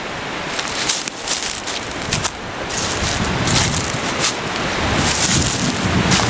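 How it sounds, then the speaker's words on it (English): Strong, gusty wind roars steadily across the microphone in woods, rising and falling in broad surges with a constant rushing hiss and no voices. "you can hear that wind, it is terrible"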